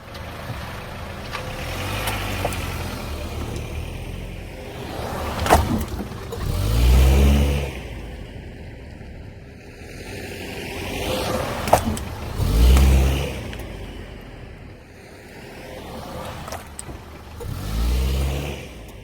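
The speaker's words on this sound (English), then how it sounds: "I'm going to start up the car, roll over it a couple times" A car starts up and drives back and forth over an Olight Warrior Mini tactical flashlight lying by the front tire. Engine revs swell and fade in several loud, close passes.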